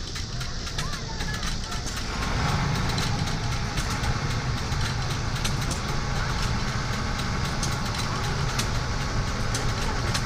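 An old three-cylinder Page stationary engine idles steadily with an even, chugging rumble, running on without pause in a noisy outdoor setting.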